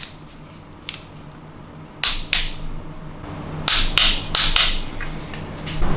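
Four bolts on BMW N62 timing chain guides being tightened to 22 Nm, heard as a handful of sharp metallic clicks and ratchet snaps in short bursts, close and fairly loud over a quiet workshop background.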